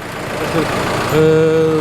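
A diesel engine of a ten-year-old tractor, running again after its injectors and injection pump were repaired, idles close by with a steady low throb and a clear tonal hum.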